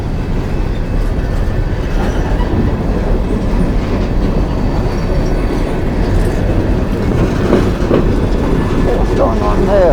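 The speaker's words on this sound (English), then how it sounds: "the last car of the train still hasn't passed me" A long coal train rolls steadily past a rail crossing in Mount Hope, West Virginia, its heavy rumble and wheel clatter continuous and close for the whole stretch, with faint squeals near the end.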